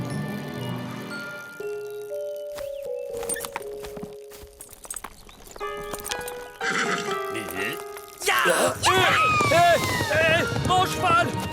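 A horse whinnies and its hooves clip-clop in a cartoon scene, mixed with music and other effects, ending in a loud, shrill neigh over busy background sound, with voices present.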